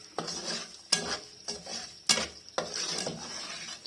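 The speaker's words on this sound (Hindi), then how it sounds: "अब इसको हम गुड़ को पकाते हैं।" Jaggery cooking in a pan while being stirred, a soft sizzle under repeated scraping strokes with several sharp metallic clinks of the spoon against the pan, close and moderately loud.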